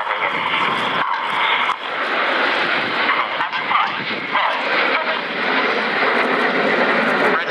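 Display team jets roar overhead at an air show, a continuous loud, broad engine rush that holds steady throughout with slight surges and no pause.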